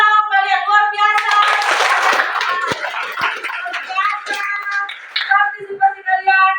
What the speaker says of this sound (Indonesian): tepuk tangan kalian luar biasa.